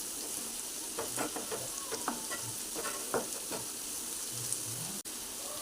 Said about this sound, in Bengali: এই পেঁয়াজগুলো ভেজে নেব আলুর সাথে।